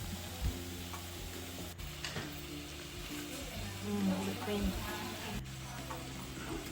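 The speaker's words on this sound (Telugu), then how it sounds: "చివరిగా కొంచెం కొత్తిమీర వేసి బాగా కలపండి" Fresh coriander stirred into a frying vegetable momo filling makes soft, faint sizzling and light spoon scrapes under a steady hum, with occasional clicks.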